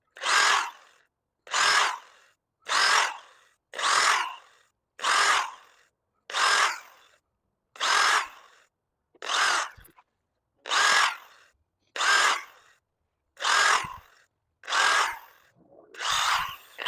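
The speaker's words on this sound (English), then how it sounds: "And right now I'm going to drill out this board." A power drill bores into a wooden board in a steady series of thirteen loud, evenly spaced bursts of about a second each, separated by brief silences, heard up close with no speech.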